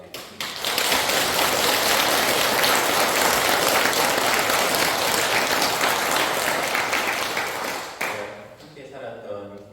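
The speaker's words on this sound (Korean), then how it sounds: "감사의 박수 드립니다" Sustained applause from a crowd, dense and steady for several seconds, fading out as a voice begins speaking near the end.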